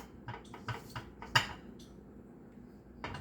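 A spatula scrapes and knocks against a mixing bowl while plantain-flour pancake batter is being mixed, giving a few soft, irregular clinks and scrapes up close with quiet pauses between them.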